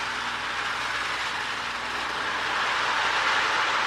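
Marx E7 toy model train, painted as an Air Force tribute, running steadily on its track with a continuous, moderately loud rumble and whir that builds slightly toward the end; no talking.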